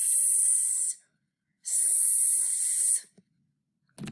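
Two long, breathy hisses from a child imitating a snake, each about a second or more with a pause between, followed by a brief thump.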